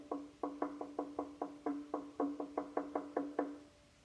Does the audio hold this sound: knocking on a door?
yes